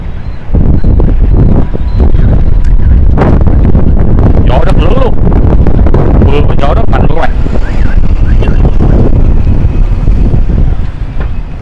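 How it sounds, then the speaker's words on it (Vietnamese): Strong gusts in heavy rain on Phan Bội Châu street by Bến Thành market in Ho Chi Minh City roar loudly and continuously across the microphone, nearly drowning the muffled street sounds. "Gió rất lớn luôn."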